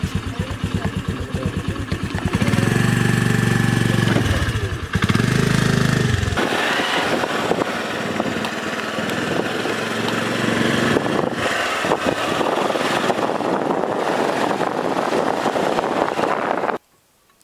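A scooter being ridden in Chitwan, Nepal, with its small engine humming loudly and unevenly, dropping and rising in tone as it moves, close throughout before cutting off abruptly at the end.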